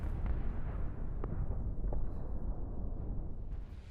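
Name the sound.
explosion from Israeli strike on Hezbollah site, south Lebanon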